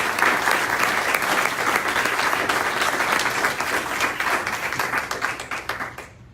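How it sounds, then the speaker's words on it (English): Audience at a town hall on education breaks into dense, sustained applause, many hands clapping loudly at once before the sound thins and fades out at the end. "Give yourselves a round of applause."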